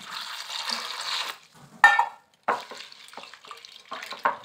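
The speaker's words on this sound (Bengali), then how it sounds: "চিড়েটা ভালো করে ধুয়ে নেব।" Flattened rice (chira) washed in a bowl of water: a rushing pour and swish, then a few short splashes and sloshes, near and fairly quiet, with no talking.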